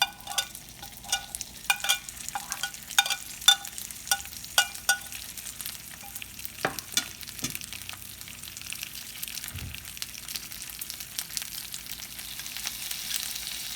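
Stuffed bitter gourds simmering in a pan with leftover masala and tamarind pulp over low heat, giving a soft, steady sizzle with scattered crackles and occasional scrapes of stirring, fairly quiet and close, no voices.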